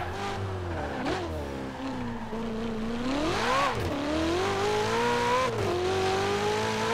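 Alfa Romeo Giulia Quadrifoglio sports car engine in Forza Horizon 4, revving loudly and steadily with rising and falling pitch as it accelerates and shifts gears, with no talk over it.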